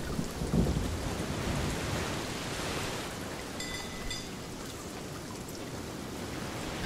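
Steady rain hisses across the whole stretch, with low thunder rumbling underneath, constant and fairly close throughout.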